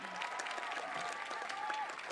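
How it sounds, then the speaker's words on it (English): An audience at a live music celebration day event gives a sustained round of applause, a fairly faint, even wash of many hands clapping at a distance with little variation. "Can you give them a huge round of applause?"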